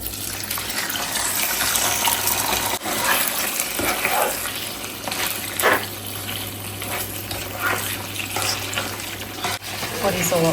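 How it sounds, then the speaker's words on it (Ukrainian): Chicken liver frying in melted butter in a pan, a steady moderate sizzle with scattered pops, scraping and occasional knocks against the pan throughout. "На пательню я виклала масло. Зараз воно розтопиться і я додам печінку."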